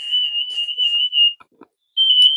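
Anti-shoplifting security tag system alarm, an electronic receiver giving a loud, steady high-pitched tone that cuts out briefly with a few small clicks and then resumes.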